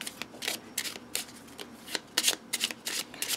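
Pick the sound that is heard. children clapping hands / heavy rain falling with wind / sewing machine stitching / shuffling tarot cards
shuffling tarot cards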